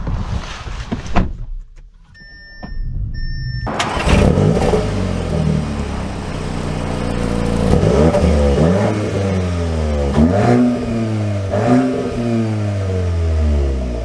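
A 2024 Audi S3 starts with a brief whir and whine, then its engine revs up and pulls away, rising and shifting through repeated climbing sweeps of acceleration, loud and close.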